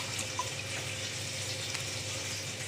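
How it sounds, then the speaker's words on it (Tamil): Water is poured into tamarind water in a kitchen while making rasam, a soft, steady trickling wash that runs evenly and fairly quietly throughout. "கூட கொஞ்சம் தண்ணி ஊற்றிக்கலாம்."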